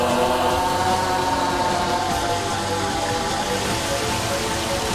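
Black Rain spell effect from The Legend of Dragoon, a steady wash of heavy rain pattering across a surface, loud and continuous for the whole stretch with low rumbling underneath and no voices.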